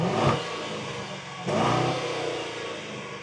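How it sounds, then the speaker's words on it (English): A 2026 Mercedes-AMG GLS 63 engine revs twice in comfort mode, each blip rising sharply and then holding a steady, fairly loud rumble, heard up close with no talking. "I'll give it a rev."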